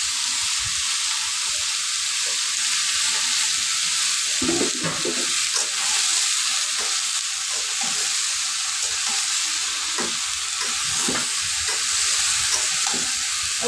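Onions and green chilies frying with black cumin and bay leaf for a vegetable dish, a steady loud sizzle throughout with occasional stirring knocks and scrapes of the pan.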